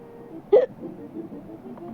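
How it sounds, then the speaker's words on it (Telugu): A single sharp hiccup bursts out near the start, loud and close, followed by quiet room tone with no speech. "కరెక్ట్గా వాయిస్ ఇద్దామని చెప్పి స్టార్ట్ చేసినప్పుడు ఎక్కిళ్ళు మొదలయ్యాయి"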